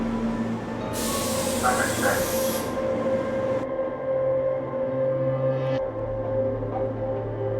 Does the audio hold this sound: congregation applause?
no